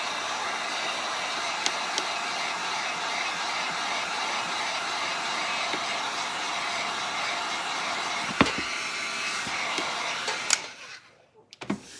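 A hair dryer blows steadily and close up while drying a molded craft piece. Its loud, even whoosh runs almost without a break, and a few faint knocks come just before it switches off near the end.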